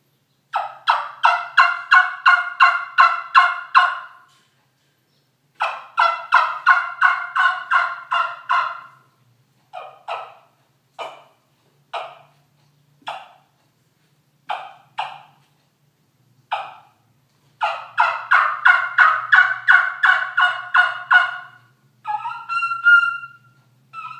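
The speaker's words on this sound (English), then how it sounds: "This is a Snakewood trumpet with a brass ferrule and a Delrin mouthpiece." A snakewood trumpet-style turkey call with a brass ferrule and Delrin mouthpiece blown in a run of loud, close yelping gobbler-like notes, bursts of rapid yelps broken by single sharp clucks, with no talk.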